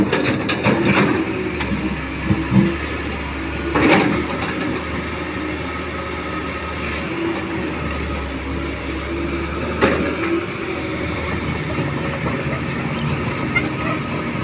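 A Caterpillar CAT 320 V2 excavator's diesel engine runs steadily while working on site, a continuous low rumble with a few sharp clanks and knocks throughout.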